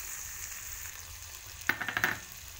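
Spices such as cumin and coriander powder fry with tomato in a pan for a rohu fish curry, a faint low sizzle followed by a brief burst of stirring and scraping near the end.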